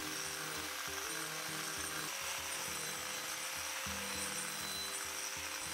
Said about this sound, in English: Today we're going to be carving with some Graff carving discs.